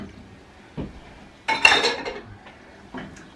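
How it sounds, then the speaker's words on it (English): A spoon scrapes and clinks against a pot while tomato puree is stirred into soup: a few scattered knocks and one louder metallic clatter midway, close and otherwise quiet. "just stir that in for about a minute"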